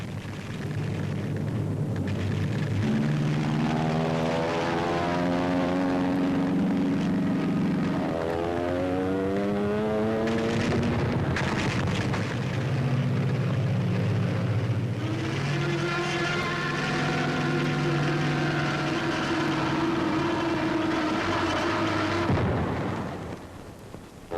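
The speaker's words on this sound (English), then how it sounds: "Allied aircraft is spotted by the German flyers. A dogfight is about to begin." Engines of 1940 WWII military aircraft in a dogfight drone loudly and continuously, several propeller tones rising and falling in pitch as planes swoop and dive, with heavy rumble throughout.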